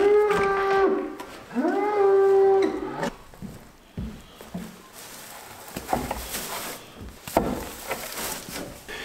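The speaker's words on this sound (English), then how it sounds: "I'm feeding the cows hay in the barn here" Cows in a barn being fed hay low in several loud, drawn-out moos close by, followed by rustling hay, thumps and creaking wood as feeding goes on.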